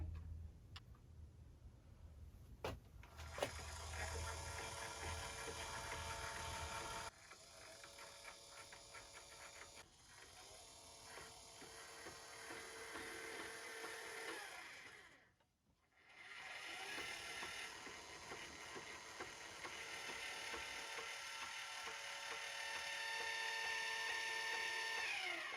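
Celestron CGEM II telescope mount motors slew with a steady whining, whirring drone, close and continuous, with a brief dip in pitch partway through and a ratchety mechanical texture.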